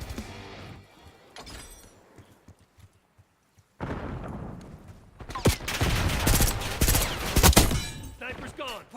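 Gunfire in a shooter video game, quiet scattered shots at first, then after a brief near-silence a dense, loud stretch of rapid bursts and blasts with a voice faintly underneath.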